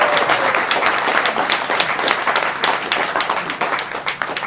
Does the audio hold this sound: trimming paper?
no